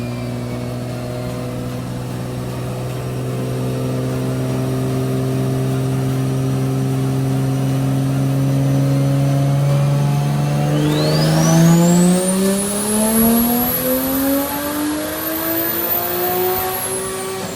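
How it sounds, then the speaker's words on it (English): A single-turbo BMW F82 M4 makes a long full-throttle dyno pull, its engine note climbing steadily in pitch and loudness over many seconds while a high turbo whine sweeps upward near the end, with no voices. "The M4 is on the dyno and we're gonna see what it makes."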